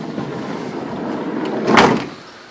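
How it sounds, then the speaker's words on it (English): Sliding side door of a 2001 Fiat Ducato camper van, somewhat rusty, rolls along and shuts with a single muffled thud near the end, close by, without talk. "I'll just shut this door over."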